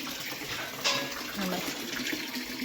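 Tap water runs steadily into a container at home, with a brief splash near the start, and the gushing stays constant throughout.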